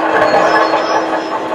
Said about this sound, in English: You can hear the trains in the background.